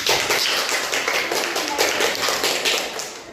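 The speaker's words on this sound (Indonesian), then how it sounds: "Kita beri tepuk tangan." A room full of people claps together in dense, steady applause, loud and close, continuing throughout.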